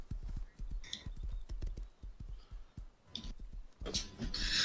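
Horse hooves clop in the Rust video game, a rapid rhythmic run of close hoof beats, then a few splashy, scuffing steps, with no talk over them.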